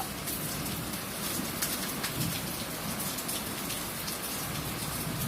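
Steady rain falls loudly and continuously, a dense hiss of drops on surfaces with no voices.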